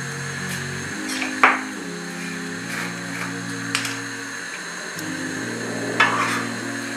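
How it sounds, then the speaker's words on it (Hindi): A spoon stirs sugar and white cardamom syrup for gulab jamun in a pot, giving a few soft scrapes and clinks over a steady tonal background. "चीनी मिक्स होने तक हम इसे हिलाते रहेंगे।"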